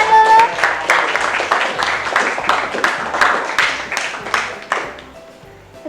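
Classmates in an Indonesian school lesson clap for a group after its presentation, a loud burst of applause that fades toward the end, with brief voices mixed in.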